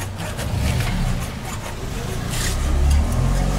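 A car rumbles past close by, its low engine noise swelling and fading over a few seconds with no talking.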